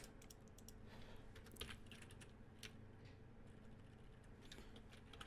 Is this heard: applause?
no